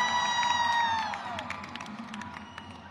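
A crowd cheering and shouting outdoors after a baseball game on a hot day, with a sustained burst of voices, including children, that fades toward the end.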